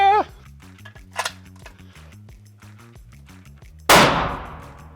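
A SIG SAUER firearm fires a sharp, loud single report near the end, its echo ringing out. An earlier brief crack and a metallic clink come before it over a quiet stretch with steady electronic tones.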